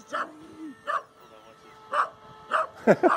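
A terrier barks at a robot dog in short sharp bursts, five or six barks spaced irregularly and ending in a quick double yip, close and clear, with a person talking over part of it.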